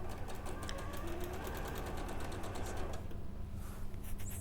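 Sewing machine chain piecing quilt pieces, a fast continuous mechanical whir of the needle running steadily, close and alone, briefly pausing near the end.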